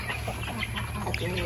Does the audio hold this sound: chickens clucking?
yes